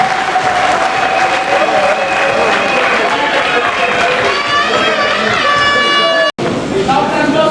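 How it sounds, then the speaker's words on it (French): Audience applause and crowd noise at a political party gathering in Congo, steady and dense for several seconds, with voices and cheering mixed in, a brief cut near the end, then more crowd sound. "Applaudissez, s'il vous plaît."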